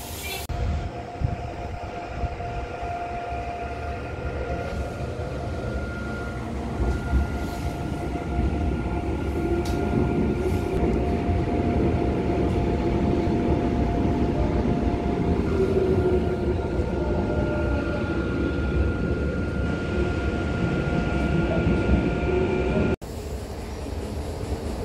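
A passenger train runs along a railway, heard from inside the carriage as a continuous loud rumble with rhythmic wheel clatter and squeals, steady throughout with a sudden shift near the end.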